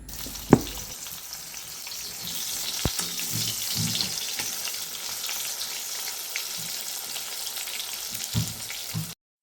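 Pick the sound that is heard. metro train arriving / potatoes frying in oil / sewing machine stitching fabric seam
potatoes frying in oil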